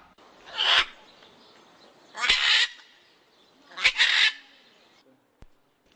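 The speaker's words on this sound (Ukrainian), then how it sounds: "Увагу від малят відволікають хіба яскраві і дуже голосні папуги Ара." Macaw parrots in a zoo aviary, three loud, harsh screeching calls spaced a second or so apart, near and clear over a quiet background.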